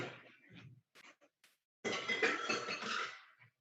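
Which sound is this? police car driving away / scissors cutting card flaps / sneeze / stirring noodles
stirring noodles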